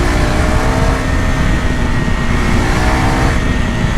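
2026 KTM Duke 390R motorcycle engine accelerating hard, a loud, close, steady roar with heavy wind rush throughout and no talking.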